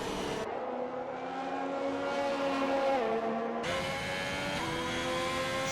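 Formula 1 car in a racing video game, a Haas lapping Zandvoort, its engine droning loudly and steadily with rising and falling harmonic pitch through gear changes, no talk over it.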